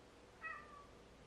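A house cat lets out a single short meow, faint and somewhat distant over a quiet indoor hiss.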